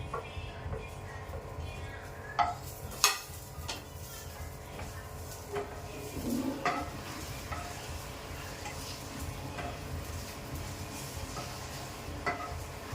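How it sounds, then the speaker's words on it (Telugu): Moringa (drumstick) leaves tossed into a frying pan with curry leaves and lentils, stirred with steady sizzling and a few sharp clinks of the spoon against the pan, fairly close. "ఇప్పుడు మునగాకు వేసేసుకుంటాం"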